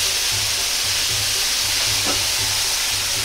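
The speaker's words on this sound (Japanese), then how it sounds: "鍋を加熱しながら回し入れ、アルコールを飛ばしながら香りを引き出します。" Shaoxing wine splashes into a hot pan of ginger while cooking shrimp and tofu. A loud, continuous sizzle and hiss holds steady throughout, with no voices.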